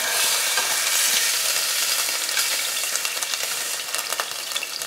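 Pan-seared tuna sizzles loudly in a hot pan, a dense crackling hiss close up that eases slightly toward the end, with no talk over it.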